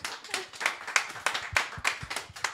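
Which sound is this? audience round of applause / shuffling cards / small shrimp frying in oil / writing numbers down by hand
audience round of applause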